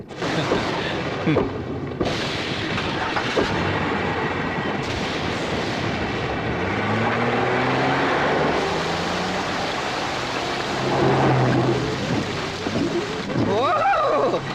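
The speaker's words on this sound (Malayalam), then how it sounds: "എന്തൊരു മഴ!" Heavy monsoon rain falls during a Malayalam film scene as a loud, steady, enveloping hiss throughout, with voices speaking and rising over it in places.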